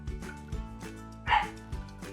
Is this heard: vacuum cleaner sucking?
no